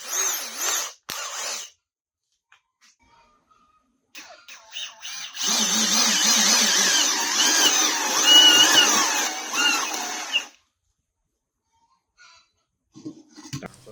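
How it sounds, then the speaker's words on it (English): A power drill whines into wood for a three-legged stool in one sustained burst of several seconds, close and loud, after a few brief tool sounds and quiet gaps. "Now we're going to drill down."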